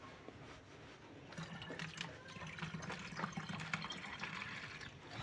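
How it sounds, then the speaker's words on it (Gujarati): Water filling a container ahead of a trip out to a farm field, a steady gushing, splashing stream that runs the whole time and is close and moderately loud, with no talking. "મિત્રો કે તરસ ન લાગે એટલા માટે પાણી ભરી લઈશું"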